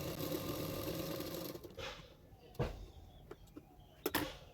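Sewing machine stitching blouse fabric: a continuous dense whirring hum that runs loud for a couple of seconds, then eases off, leaving a few sharp taps and clicks with quiet background.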